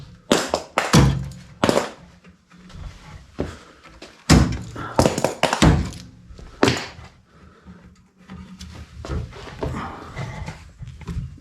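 Metal clamps come off a classic Mini's rear body panel in a series of sharp, separate knocks and clanks, some loud and some lighter, scattered across a quiet workshop.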